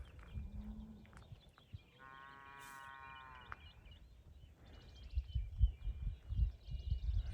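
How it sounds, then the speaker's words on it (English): Cows mooing in a field on a mountain route in the morning, a long sustained low moo in the middle distance with a shorter call before it, over steady outdoor background noise and some nearby rustling. "a couple of cows out in the morning. I can hear them over there. They're making a lot of noise."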